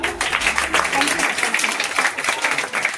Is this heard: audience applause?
yes